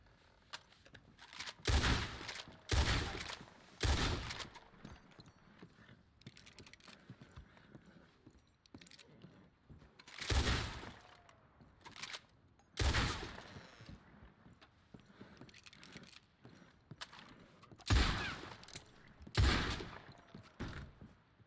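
Gunshots in a western roleplay video game, loud separate bangs spaced a few seconds apart, some in quick pairs, each with a short echoing tail against a quiet background.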